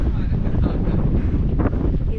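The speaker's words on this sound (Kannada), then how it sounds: "ಹೆವಿ ಗಾಳಿ ಇದೆ" Heavy wind on the Kyathanmakki hilltop buffeting the microphone, a loud, continuous low roar with gusty rumble throughout, close and overpowering.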